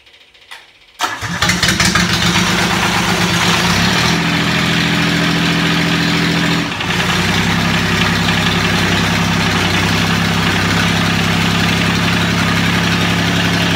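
A big tractor engine that has not been started in a while cranks briefly, catches with a loud burst, then settles into a steady, loud rumbling idle close by, with no talking.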